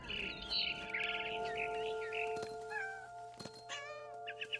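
Cat meowing in the video game What Remains of Edith Finch, several drawn-out mews and cries over a quiet tonal game background, with bird chirps mixed in.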